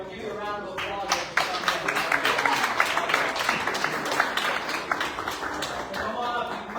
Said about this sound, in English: Here, we'll give you a round of applause.